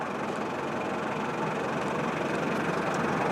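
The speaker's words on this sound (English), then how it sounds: "we have a Dreamliner on short final" A LATAM Boeing 787 Dreamliner airliner arriving from Fortaleza on short final at Lisbon Airport, a steady, broad roar of jet engines that holds at an even, fairly loud level throughout, with no voices.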